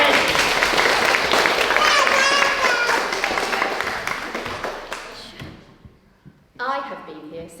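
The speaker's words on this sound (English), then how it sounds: "Round of applause for Tony." Audience at a school leavers service claps and cheers, loud and dense at first, then thinning out and fading to near quiet before a voice starts speaking.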